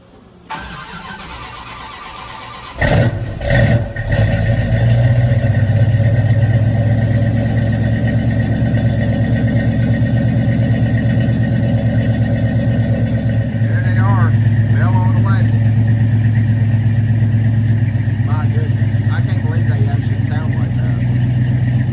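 A vehicle engine cold-starts with a brief cranking whir and catches, then settles into a loud, steady rumbling idle that continues throughout, with a few faint background sounds over the drone.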